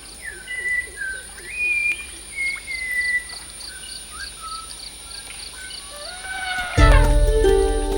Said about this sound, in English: Our morning alarm is a naughty schoolboy whistle of the Malabar whistling